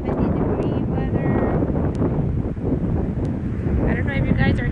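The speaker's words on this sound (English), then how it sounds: "I don't know if you guys are hearing the blowing of the wind" Heavy wind buffeting a microphone outdoors in Florida, a loud continuous low rumble with gusty swells, and faint voices underneath.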